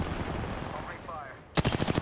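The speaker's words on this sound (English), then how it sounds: "Opening fire." Gunfire in the video game Apex Legends: a rapid burst of loud, closely spaced shots bursts out near the end after a stretch of quieter game sound.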